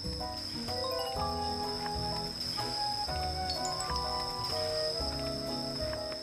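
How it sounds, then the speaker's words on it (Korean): Crickets chirp loudly as a steady, high trill that runs unbroken beneath soft music. "귀뚜라미 소리가 엄청 크게 들린다."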